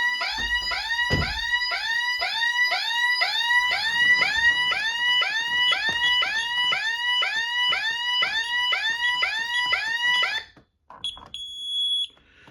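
A loud electronic siren whoops in rapid repeating sweeps for about ten seconds, then cuts off abruptly, leaving brief faint beeps.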